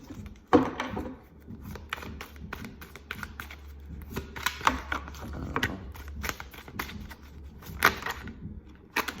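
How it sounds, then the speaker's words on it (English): A Golden Tarot card deck is shuffled by hand, producing rapid irregular riffling clicks and taps in quick bursts with a few louder knocks, close and without speech. "We're going to begin some shuffling."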